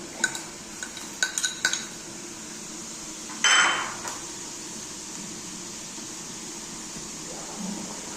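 Garlic-cumin paste stirred into boiling fish curry: a quick run of metal spoon clanks against the pot, then a brief louder scrape, followed by a low steady simmer.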